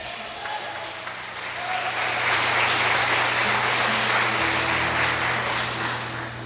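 A church congregation bursts into applause during a service, the clapping swelling into a loud, sustained wash with a low steady hum beneath it.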